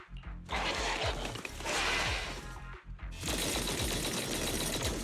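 Rapid, heavy gunfire from Zenless Zone Zero rattles in long bursts, loud and close, with a brief pause before another sustained volley of shots and impacts.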